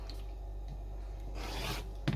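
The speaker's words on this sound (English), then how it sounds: "I get my ruler and my rotary cutter, and then I cut on that solid line" A rotary cutter run along a ruler slices through quilt fabric on a stitched line, making a quiet, short rasping scrape in the middle of an otherwise hushed moment.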